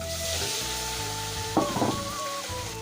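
Turmeric and paneer frying in hot mustard oil: a steady, close hiss of sizzling fills the whole stretch, with a brief clatter of utensils in the middle and no talking.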